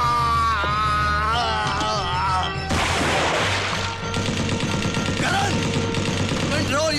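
A sudden burst of loud, dense gunfire from a Hindi action film cuts in over dramatic music and shouting, followed by continued clattering shots and crashes.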